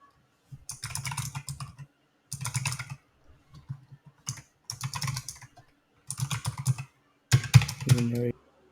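Close typing on a computer keyboard in five or six quick bursts of key clicks separated by short pauses, with a brief tonal sound at the end.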